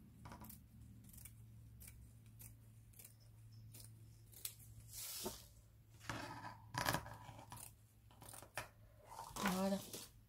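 Scissors snip repeatedly through paper or card during a craft project, crisp cuts in an irregular rhythm with a soft voice speaking briefly between them over a steady low hum.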